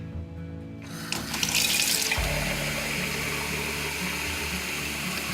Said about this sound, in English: Filling it up with water to dilute it.